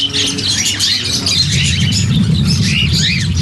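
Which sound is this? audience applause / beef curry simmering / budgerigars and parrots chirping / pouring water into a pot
budgerigars and parrots chirping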